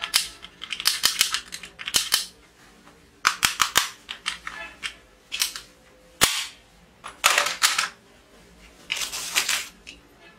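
A small toy pistol fires in bursts of sharp, snappy cap-gun cracks, some single and some in quick clusters, close and loud with short pauses between them and no talking.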